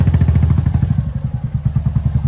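A motorbike ridden near a lakeside in Pokhara, its engine giving a steady, loud low rumble with rapid pulsing throughout, close to the microphone and with no talking.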